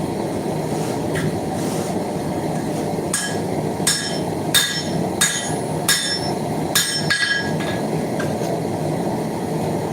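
Hammer blows ring out on a square punch driven into a steel railroad spike while forging a tomahawk, a series of sharp metallic strikes in an uneven rhythm over a steady background hum.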